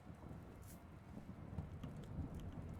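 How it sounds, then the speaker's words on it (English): Steady rain with low rumbling thunder falls outside in a potion brewing video game, a continuous moderate wash of rainfall with deep rolling undertones and no voices. "Ooh, it's raining outside."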